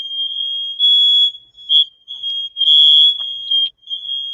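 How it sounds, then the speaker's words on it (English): A home smoke alarm blares in piercing high-pitched electronic bursts, loud and close, with irregular long and short beeps broken by brief gaps and no voices. "My fire alarm went off."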